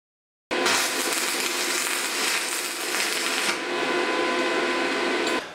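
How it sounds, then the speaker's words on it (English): Arc welder tacking steel angle brackets, a continuous loud crackling buzz starting abruptly and running for about five seconds before cutting off. "we're now going to put a couple of tack welds on there using the arc welder"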